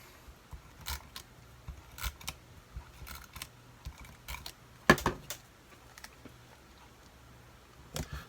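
Tape is torn and pressed onto a paper bear on a scrapbook layout, a series of faint, sharp ripping and tapping clicks spaced irregularly against near silence, one slightly louder snap midway.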